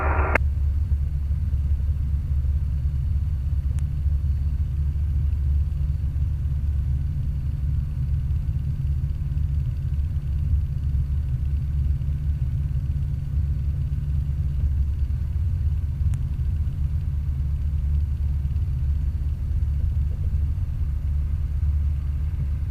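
A Cessna 150 light aircraft taxis on the runway at Edenvale Aerodrome, its piston engine holding a steady, low, close-up rumble for a long stretch with almost no variation.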